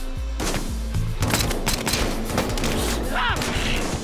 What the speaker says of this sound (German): So, jetzt wird eine kleine Schießerei.